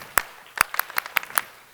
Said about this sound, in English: you're going to clap 5 times